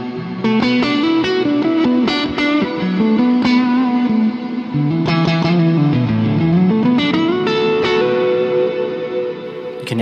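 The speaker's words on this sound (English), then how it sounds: "This is a basic drive with delay and reverb." Electric guitar through a Line 6 Helix preset modelled on a pedalboard, set to a basic overdrive with delay and reverb, plays a continuous melodic line of sustained and picked notes, with echoing repeats and a reverberant wash throughout. Loud and steady, no voices.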